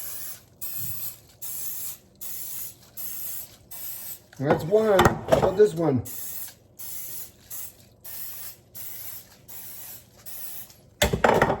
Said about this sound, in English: Gonna give it a little spray here.